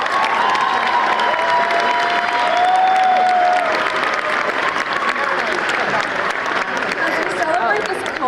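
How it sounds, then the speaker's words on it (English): Loud, continuous audience applause at a graduation ceremony for the class of 2026, a thick roar of clapping with some cheering mixed in, holding steady for the whole stretch. "let us thank them with a well-deserved round of applause."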